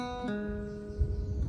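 An Irish bouzouki picks a short three-note group from the Shaskeen Jig, with faint, sustained ringing notes changing pitch once and a low rumble underneath.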